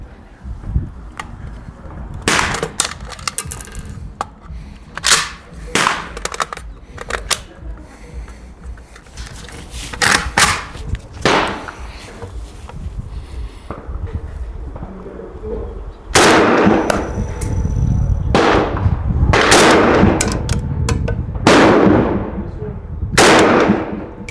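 A PA30 air gun fires Predator Polymags and AEA slugs outdoors, sharp loud cracks in irregular succession, bunching into a rapid run of close shots toward the end, with people talking and birds calling between.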